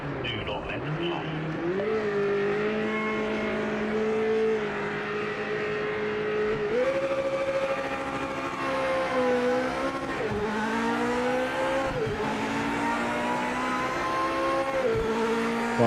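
Race cars in the Project Motor Racing game at the race start, several engines droning together and climbing in pitch through gear changes, loud and steady throughout, with someone talking over them.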